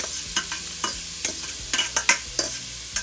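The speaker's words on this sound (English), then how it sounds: "So the meat and onions are done. And I'm adding them back to the pan after I've drained them." Drained cooked meat and onions stirred back into a stovetop pot, with a steady series of spoon scrapes and taps against the pan over a light sizzle, close and clear with no talking.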